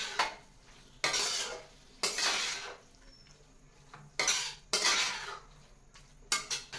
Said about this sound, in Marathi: आता हा कोबी या दोन्ही सॉसमध्ये 1-2 मिनिट शिजवून घ्यायचा आहे